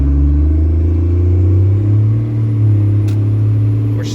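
Second-generation Cummins pickup truck with a stock transmission accelerating as its wheels spin, a loud close, steady low engine rumble with a sustained droning tone and a faint brief click near the end.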